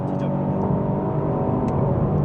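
A Peugeot 308 48V mild hybrid accelerating from third into fourth gear, heard as a steady, close engine drone with a faint whir, briefly and evenly held.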